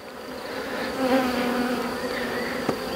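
Honeybees from a newly settled swarm buzz continuously around the hive, a dense close hum with individual bees drifting past, no voices.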